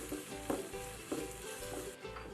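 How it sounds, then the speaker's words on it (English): Onions frying in butter in a pot for a lasagna white sauce, a steady close sizzle with a few soft stirring scrapes and clatters, no talking. "So my onions are getting nice and glassy"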